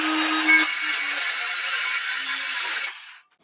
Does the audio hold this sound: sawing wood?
yes